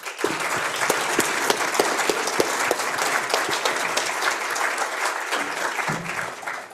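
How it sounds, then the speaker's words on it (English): An audience at the Canadian Open Data Summit breaks into sustained applause, a thick wash of many hands clapping with a few crisper individual claps standing out, steady for several seconds before tapering slightly. "Today, a round of applause"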